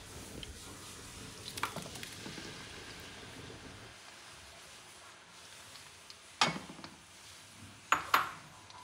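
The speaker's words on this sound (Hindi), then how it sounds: "सिर्फ 2 मिनट के लिए इस प्याज को हम इस ऑयल में फ्राई करेंगे" Ground onions fry softly in hot oil in a home kitchen, a faint steady sizzle beneath a few sharp clinks of a utensil against the pan near the end.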